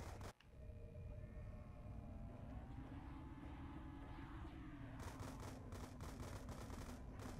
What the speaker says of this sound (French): Il tire pas tout d'un coup, il tire en petite rafale. Coup par coup.